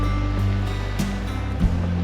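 Steady broadband wash of ocean water lapping on a rocky Tasman Peninsula shore on a cold, calm day, continuous and fairly close, with a low rumble underneath and no talking.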